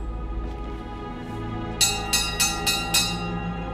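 In the Hitman 3 Dartmoor mission, a bright bell rings five evenly spaced strikes, each chime ringing out clearly over a quiet, low ambient background.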